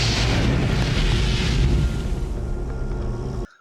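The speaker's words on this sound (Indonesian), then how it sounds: "menyebabkan meledaknya sebuah anjungan pengeboran minyak dan gas lepas pantai bernama Piper Alpha" The Piper Alpha offshore oil and gas platform explodes in a massive, deep roaring blast that rumbles continuously, loud and heavy, then gradually eases before cutting off abruptly.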